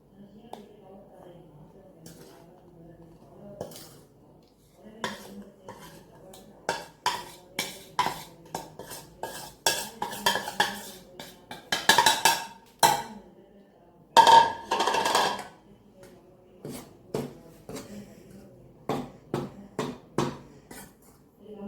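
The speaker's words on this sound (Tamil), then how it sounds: "ஃபர்ஸ்ட் நம்ம ஸ்டவ் ஆன் பண்ணி கேழ்வரகு மாவை வறுக்கணும்." Finger millet (ragi) flour is dry-roasted in a pan on a stove, with scattered scrapes, knocks and clinks of a utensil against the pan that come in loose bursts, some close and sharp, others faint.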